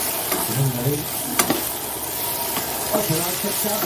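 Tomatoes sizzle and fry in a hot pan with green chillies while a utensil stirs them, a steady close-up crackle broken by a few sharp scraping strokes.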